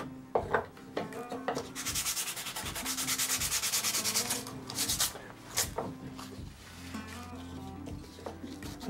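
Sandpaper rubbing over a hand-carved wooden rosette decoration, with steady back-and-forth strokes that swell into a longer continuous stretch mid-way, then break into shorter scrubbing passes, close and fairly loud with no talking.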